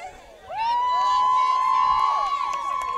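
A women's soccer team cheers on the men's soccer team late in a college match, with a crowd of voices rising into loud, sustained shouting and whoops that carry through the rest of the moment, plus a commentator talking.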